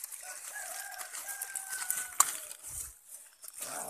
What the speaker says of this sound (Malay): Bapak banyak banget pelihara ayam. Nah, ayamnya pada makan.